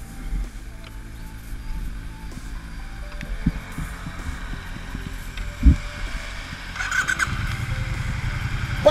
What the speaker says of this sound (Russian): Завести мотор и погнать.